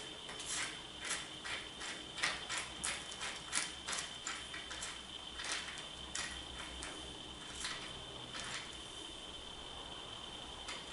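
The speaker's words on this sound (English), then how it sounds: "Put your screw in." A screw is driven by hand into the limb fitting of a Martin Saber recurve bow, giving a run of small, close ratcheting clicks. The clicks are irregular at first, then sparser, with no speech.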